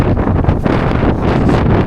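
Fierce wind on the summit of Preikestolen blasts loudly and steadily against the microphone, roaring with uneven gusts and no other sound standing out.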